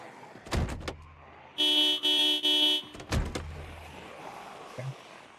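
Car in Project Zomboid sounding off in a few bursts: a steady tonal horn-like blare in three short pulses, bracketed by clunky mechanical thuds, over a low ambient background.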